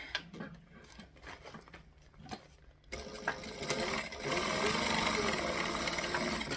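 A sewing machine closes a gap in a bag lining, starting after a few seconds of handling noises and light rustling, then running in a loud, steady close-up hum-and-clatter of stitching to the end, with a voice talking briefly early on.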